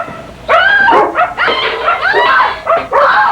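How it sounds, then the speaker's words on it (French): A big, gentle dog barks and yips in a run of loud, close bursts, with whimpering, howl-like tones between the barks and no talk over them. "Je pense que c'est son chien."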